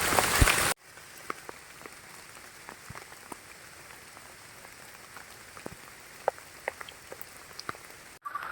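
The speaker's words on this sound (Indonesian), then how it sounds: "Sekarang hujan deras banget." Heavy rain falls steadily on a mountain forest trail, a soft continuous hiss with scattered sharper drops and patters, after a brief louder burst at the start.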